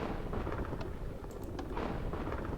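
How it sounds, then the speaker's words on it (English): A rolling thunder rumble from Minecraft version 1.6.1 plays quietly, a low, crackling roll that swells and fades over a couple of seconds with no voices over it. "every time I press this, you will hear a different thunder sound"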